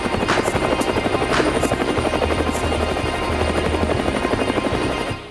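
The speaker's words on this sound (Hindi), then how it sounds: "और अब मैं मौजूद हूँ लाइट कॉम्बैट हेलीकॉप्टर के पास।" Loud, steady rotor chop and turbine drone of an HAL Prachand light combat helicopter being inducted into the Indian Air Force, running close by without letup and with no talk over it.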